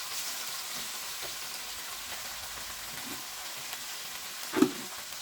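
Small pieces of chicken breast frying in a pan for arroz caldo, a steady close sizzle with occasional stirring taps and one louder clatter near the end, no talk.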